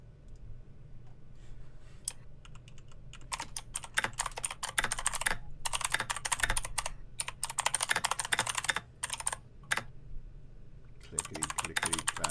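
Rapid typing on a computer keyboard during a tabletop role-playing game session, with dense bursts of clicky keystrokes that swell and pause, close and fairly loud, with some voices in the background.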